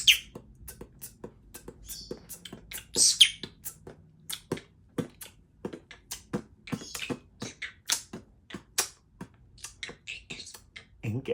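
A conure parrot beatboxes with a rapid series of sharp clicks, pops and snapping sounds in an irregular rhythm, close and fairly quiet, with occasional tiny chirps and no talk.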